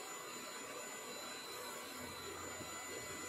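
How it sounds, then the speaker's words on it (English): A hair dryer blows continuously nearby, a steady airy whir with a faint high whine and no breaks. "I have the blow dryer on at my feet again."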